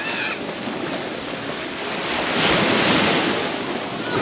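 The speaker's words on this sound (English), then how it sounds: "right now it's really, really high tide, so you can't really see the beach" Ocean waves at high tide washing onto a white sand beach in the Philippines, a continuous close surf roar with wind buffeting the microphone and a swell building midway.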